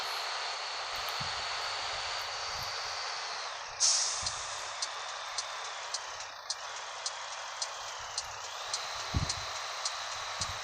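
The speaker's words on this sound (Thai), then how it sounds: "เสียงเทอร์โบดูดอากาศเนี่ยดังแรงมากเลยนะรถคันนี้" Turbo air intake of a Caterpillar truck in the World Truck driving game: a loud, steady rushing hiss with a high whine that surges partway through, followed by evenly spaced ticks and low engine rumble.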